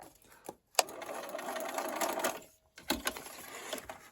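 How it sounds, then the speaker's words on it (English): A sewing machine stitches a straight seam along a dashed line while paper piecing a drum quilt block, running in steady whirring bursts with two brief pauses, close and clear with no talking. "I'll sew all the way down this line to 1 or 2 stitches past this dashed line."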